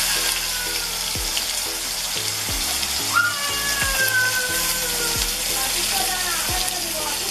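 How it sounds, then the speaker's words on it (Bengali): Fish sizzle as they fry in hot oil, a steady close crackle and hiss running throughout, with occasional clinks and stirring knocks from the pan. "আর ওই পাশে তেলটা আমার গরম হচ্ছে, গরম প্রায় হয়ে গিয়েছে। মাছগুলো ভেজে নিচ্ছি।"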